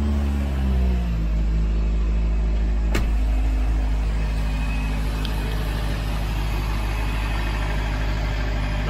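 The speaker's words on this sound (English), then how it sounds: "the high idle is normal for the supercharger map" Supercharged Opel Astra engine running at a high idle after a supercharger install, a loud steady low rumble held evenly throughout, with engine pitch settling in the first second and one sharp brief click near the three-second mark.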